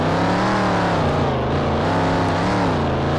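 A 1985 Ford Bronco engine labors up a hill in low gear, a loud, close, continuous drone holding a steady pitch with slight wavering, and no talk over it.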